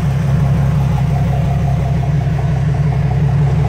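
A Jeep JK Rubicon idles through a Borla exhaust in a steady, loud, deep rumble that stays even and unbroken throughout, heard close up.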